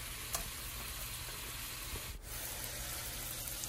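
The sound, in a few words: diced bacon frying in a pan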